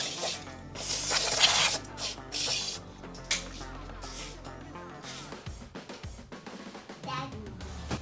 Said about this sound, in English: I'm gonna spray a little brake clean down in here.